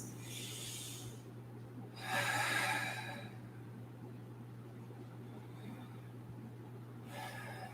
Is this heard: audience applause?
no